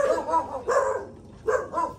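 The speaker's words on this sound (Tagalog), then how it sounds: "Dahil palang aso dito." A dog barks several times in a house under construction in Mindoro, the short, loud barks coming in irregular bursts with brief pauses between them and no talk over them.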